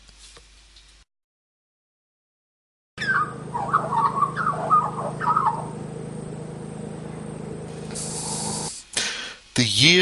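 A magpie sings a series of warbling, fluting phrases over a steady low background hum, fairly close and clear, after a few seconds of near silence.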